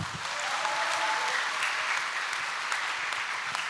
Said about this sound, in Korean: 국민의 안전을 위해 힘써달라는 응원의 박수를 부탁드리겠습니다.